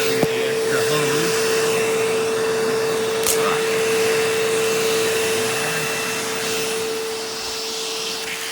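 A Dirt Devil Ultra MVP upright vacuum cleaner runs with a constant, even whine and airy roar, steady and close throughout with no pauses.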